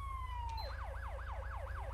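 Federal Signal Uni Control Touchmaster Delta police siren in a game, a falling wail that switches into a rapid rising-falling yelp, about five quick cycles, loud and close over a low engine drone.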